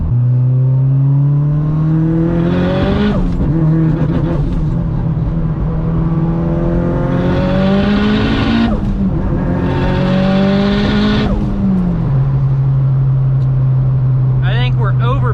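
A 600hp Mitsubishi Evo 9 engine, over boosting, pulls hard in loud repeated surges, its pitch climbing through each run before dropping back to a steady idle-like drone, all up close from inside the car.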